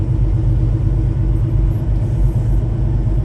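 A truck hauling an empty trailer cruises along a snowy road, heard from inside the cab as a steady, loud low rumble of engine and road noise with no break.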